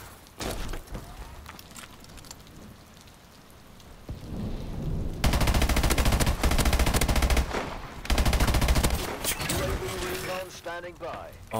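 Automatic gunfire rattles in a Call of Duty Advanced Warfare Exo last-man-standing match, bursting loudly in two long sustained strings, with weapon-handling sounds and game noise between them and a voice talking at the start.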